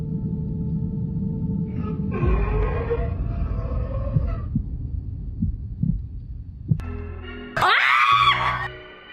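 Heartbeat pulsing low and steady through a paranormal haunted-house scene, soft thumps recurring beneath droning tones, then swallowed by a loud burst of screaming and harsh noise near the end.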